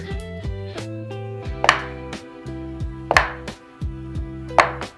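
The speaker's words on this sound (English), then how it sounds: "I'm going to be cutting the butter up into smaller cubes" A knife cuts a block of cold butter into small cubes on a board, with three crisp, close thunks spaced about a second and a half apart over steady background music.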